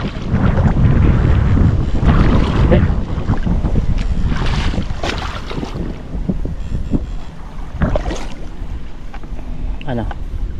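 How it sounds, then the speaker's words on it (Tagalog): Strong wind buffets a boat out at sea, roaring steadily against the microphone with gusty swells and some splashing, loud and close throughout. "malakas po yung hangin."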